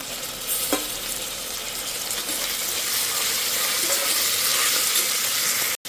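Onions and tomatoes fry in a pan with a loud, steady sizzle that swells slightly over several seconds, marked by an early clink, then cuts off abruptly at the end.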